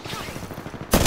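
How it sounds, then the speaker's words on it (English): Gunfire in Apex Legends erupts suddenly at the very end as a loud, close burst after a quieter stretch of low background rumble. "Taking fire!"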